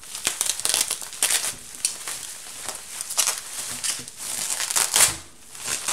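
Crinkly plastic and paper wrapping on a candle package being pulled open up close, a steady run of loud crackling and rustling bursts with brief pauses, no talking.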